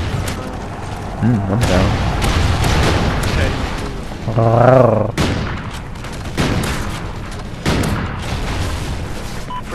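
A grenade blast in a first-person shooter game booms out as one loud burst among ongoing gunfire, with players talking excitedly over the action.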